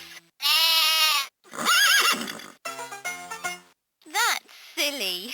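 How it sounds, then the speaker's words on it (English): A 2007 UK-version LeapFrog Fridge Farm toy plays electronic animal calls: a sheep bleat and a horse whinny. They come as short, separate bursts with brief silences between them, and a recorded voice speaks among them. "A sheep in front, a horse behind."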